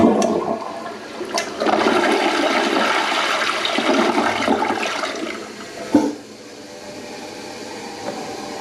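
A newly installed Kohler Kingston toilet flushes with a loud rushing swirl of water, then settles into a softer, steady hiss as the tank refills.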